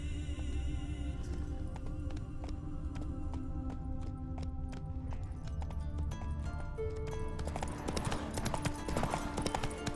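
Horse hooves clip-clop steadily at a gallop in The Witcher 3 video game, a continuous rhythmic pounding over layered game music and ambience, with a brief voice calling out.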